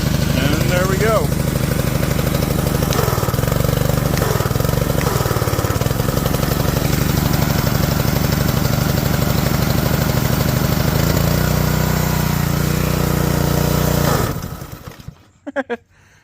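A pressure washer's small gasoline engine runs outdoors, a loud steady chugging drone with slight pitch shifts, close by and continuous until it cuts off near the end.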